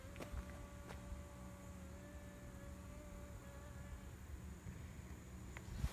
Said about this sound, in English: Might want to wait until these bees calm down.